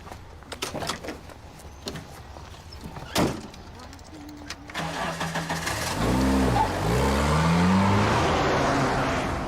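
A car engine starts and the car pulls away, its hum rising and shifting in pitch as it gets moving, with a door sound likely and some voices earlier in the scene.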